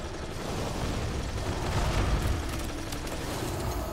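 A Gatling gun fires in the Motherlode dungeon of World of Warcraft, producing a dense, continuous roar of rapid shots and rumbling blasts that holds steady and loud throughout.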